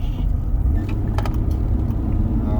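Slow rush-hour road traffic, a steady low rumble of car engines and tyres close by, with a few faint higher clicks and rattles over the drone.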